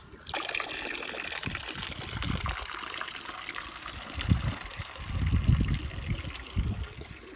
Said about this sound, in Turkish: Kuşlar korkutmadan şu musluğu açsam temiz su gelse